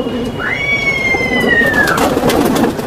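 Racing homer pigeons, a male and female pair, coo softly nearby with one long drawn-out note, set against steady hissing background noise.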